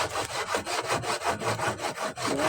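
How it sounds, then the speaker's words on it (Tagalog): A hand saw cuts through wood for a doormat frame in steady, rapid back-and-forth strokes, loud and close, with a rasping rhythm of about four strokes per second and no talking. "Lagari tayo ng lagari."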